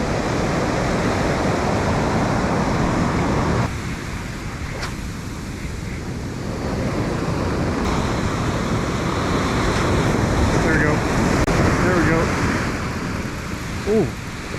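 Surf breaking on a fishing beach, a steady loud broadband wash with swells rising and falling, mixed with wind buffeting the microphone and no talk.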